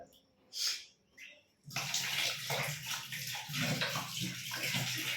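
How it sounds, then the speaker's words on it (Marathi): A tap is opened at about the middle and water runs steadily and loudly into a basin while a child brushes teeth, after a couple of brief softer sounds at the start. "चल नळाचं पाणी चालू कर आणि ब्रश करून घे लवकर"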